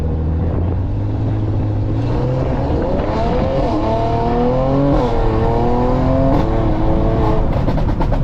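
A 550 hp car accelerates from 0 to 60 on a closed track in Mexico, its loud, close engine note climbing repeatedly in pitch through several gear changes with no pause.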